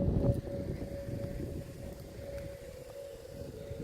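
Several Whelen 4008 outdoor warning sirens sound together during a Fairfield County, Ohio siren test, a steady distant wail drifting over rumbling ambient wind and background noise.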